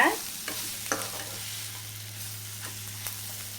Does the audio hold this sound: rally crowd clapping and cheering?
no